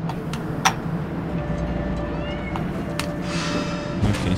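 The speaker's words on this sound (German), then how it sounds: "Guck mal, ein Katze." Cat meowing in the video game Trine 4, with a few short meows heard under game music and ambience while a player talks.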